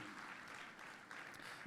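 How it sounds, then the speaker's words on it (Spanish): A church congregation claps in praise during a service, a dense, even wash of applause that holds steady for the whole moment, somewhat distant and soft. "Fuerte ese aplauso de alabanza al Señor."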